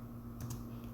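Typing on a computer keyboard while writing Java code, a brief burst of a couple of soft key clicks over a steady low hum, close and faint.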